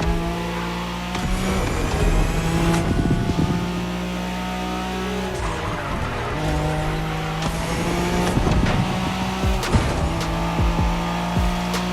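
Nissan Skyline racing in The Crew Motorfest video game, a loud sustained engine roar with revving and repeated tire squeals and skids throughout, no talking.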